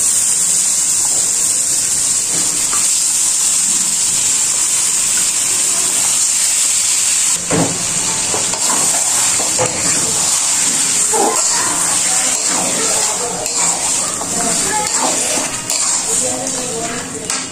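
Beef pieces dropped into a hot pan of well-fried spices for a spicy chilli beef bhuna, sizzling with a loud steady hiss and crackle that grows busier after a sharp clatter midway, no talk.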